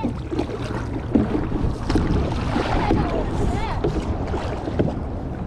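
A canoe is paddled on the water at Wheeler WMR, with wind and water noise, splashing paddle strokes and people talking throughout.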